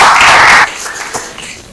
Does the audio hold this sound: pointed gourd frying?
no